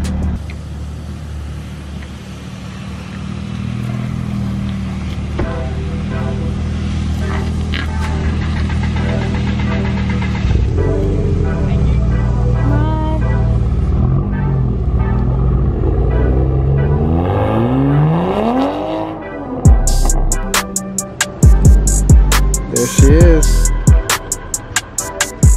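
2020 Toyota Supra pulling away: a steady engine hum and throb builds into revving, rising pulls, then breaks into sharp, uneven bursts near the end, loud and close throughout.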